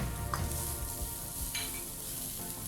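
Carrots with minced garlic and ginger are stirred in a sizzling frying pan, a steady close sizzle broken by a few short scrapes of the spoon, with no speech.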